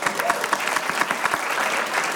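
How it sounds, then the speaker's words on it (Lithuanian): A studio audience at a Lithuanian TV game show claps steadily, a dense and even patter of many hands at moderate loudness that carries on through the whole short stretch without any voices over it. "Ir tais pačiais plojimais paskatino Marką ištraukti savo pirmąją kortelę."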